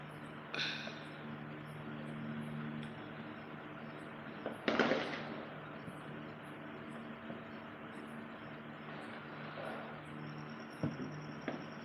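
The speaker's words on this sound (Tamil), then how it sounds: "எனக்கு பின்னாடி பார்த்தீங்களா பட்டாசு வெடிக்கிறது தெரியுதுங்களா" Firecrackers burst in the distance during a village night, a few sharp faint cracks and one louder bang standing out over a low steady background hum.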